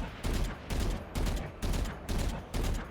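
Vandal rifle fire in Valorant comes as about six tight bursts of rapid shots in an even rhythm, loud and close, each burst cut off by short pauses.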